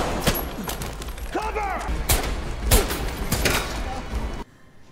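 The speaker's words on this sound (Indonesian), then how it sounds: "Tiba-tiba, Carlos dan anak buahnya datang melepaskan tembakan." Gunfire erupts in a film shootout, sharp overlapping shots and bursts ringing out repeatedly over several seconds, with someone shouting a warning amid the chaos before it cuts to near silence.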